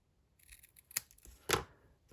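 Scissors snip around a stamped word cut from paper for a handmade card: a few crisp, close cuts, the sharpest two about half a second apart, in a quiet room.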